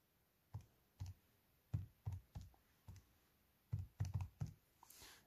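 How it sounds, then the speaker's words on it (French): Calculator keys pressed one after another, roughly a dozen soft plastic clicks in uneven bursts with short pauses between them. The taps are close and quiet, and no one speaks. "On prend sa calculatrice, on tape, moins, parenthèse, 5x moins 6 au carré."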